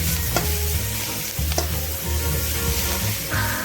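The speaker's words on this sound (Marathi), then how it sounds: "आता मी याच्यामध्ये कांद्याचे पात त्यातून पुन्हा एकदा व्यवस्थित असं मिश्र करून घेत आहे" Hakka noodles and chopped spring onions are tossed in a hot wok, giving a loud, dense sizzle with a low rumbling hum beneath and a few sharp clanks of the spatula, heard up close.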